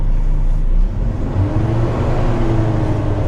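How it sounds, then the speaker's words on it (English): Truck engine running steadily with a low mechanical hum and whir as the PTO switch drives the hydraulics that raise the dump bed, loud and close with no talk. "Now to run the bed, you just turn the PTO switch on and"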